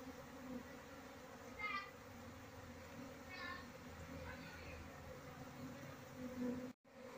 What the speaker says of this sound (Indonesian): memindahkan koloni lebah yang mencari sarang di dahan dengan cara menjolok menggunakan karung berhasil